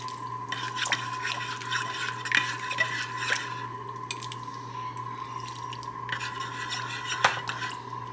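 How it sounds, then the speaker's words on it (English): A cornstarch and water slurry is stirred into stew in a crock pot, with steady scraping and clinking of a utensil against the pot and wet liquid sounds over a low constant hum. "I'm going to add some cornstarch and some water to make a slurry and to thicken that up"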